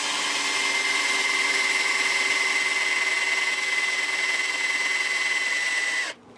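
Steady, loud whine of a power drill boring into a guitar body that mixes Stratocaster and Telecaster parts, running continuously for about six seconds before cutting off abruptly.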